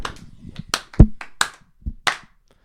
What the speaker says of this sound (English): We're going to try clapping one more time.